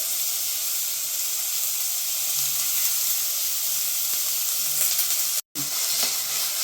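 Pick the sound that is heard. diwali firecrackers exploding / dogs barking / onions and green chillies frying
onions and green chillies frying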